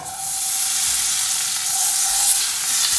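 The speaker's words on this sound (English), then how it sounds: "So the first thing that I want to do is heat the pan and add the butter." Butter melts in a hot pan with a loud, continuous close-up sizzle and hiss that holds steady throughout, with no speech.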